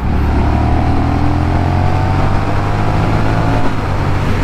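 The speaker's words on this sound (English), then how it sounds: "So let's go ahead and give it a downshift here." A 2021 Honda Rebel 1100 DCT motorcycle downshifts under way, its engine revving as a loud, steady drone with no break, recorded close to the bike amid continuous wind and road roar and no talking.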